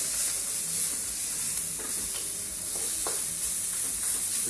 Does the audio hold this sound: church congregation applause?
no